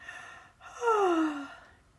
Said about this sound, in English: If you're tired and you know it, give a yawn